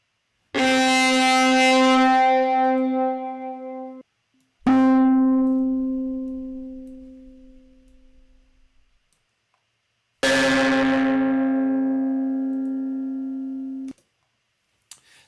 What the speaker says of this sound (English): go ahead and try this decapitator, similar to a distortion pedal